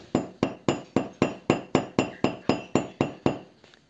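A hard hammer strikes a piece of wire laid on a hard surface to flatten it for a wire-wrapped pearl ring, about a dozen sharp, evenly spaced metallic taps, close and loud.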